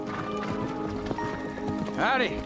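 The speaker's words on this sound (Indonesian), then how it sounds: "Dia memiliki seekor kuda Mustang liar, campuran darah Spanyol yang diberi nama Hidalgo." Hooves of a galloping wild Mustang of mixed Spanish blood pound in a quick rhythm, close and steady, and a whinny rises near the end. Someone narrates over the hoofbeats.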